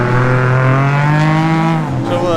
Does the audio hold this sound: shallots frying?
no